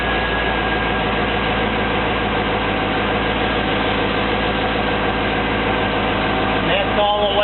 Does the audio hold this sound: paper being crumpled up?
no